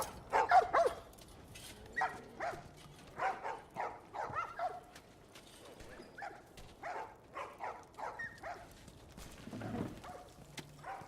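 Dogs bark in The Last of Us video game, a scatter of short barks and yips repeating irregularly and sounding faint and somewhat distant, with a little low background noise.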